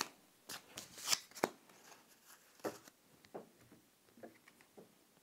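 Several decks of playing cards shuffled by hand, a run of sharp riffling bursts and soft flicks, close and fairly quiet, with irregular pauses and no talking.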